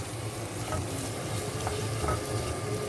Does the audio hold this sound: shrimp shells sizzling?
yes